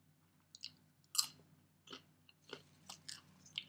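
Close, quiet crunching and chewing of popcorn, several irregular crackly bites in near silence.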